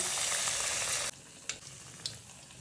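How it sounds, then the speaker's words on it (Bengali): Potato wedges frying in hot oil: a loud, dense sizzle that suddenly drops to a quieter bubbling, followed by a couple of brief clinks of a fork against the pan. "ভেজে নিব পটেটো ভেজেস"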